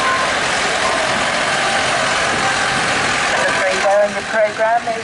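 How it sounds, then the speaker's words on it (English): A 1942 Ford PPW Jeep's engine runs at a military vehicles display at the Great Dorset Steam Fair, a loud, steady rumble heard outdoors, with a voice coming in over it near the end. "1942 Ford PPW Jeep"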